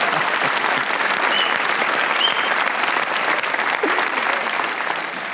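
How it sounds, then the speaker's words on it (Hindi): Sustained studio audience applause on the Pakistani comedy talk show Hasna Mana Hai, a dense, even clapping that holds steady for several seconds and tapers slightly at the end. "एक बार उमर अकमल के लिए तालियां होनी चाहिए।"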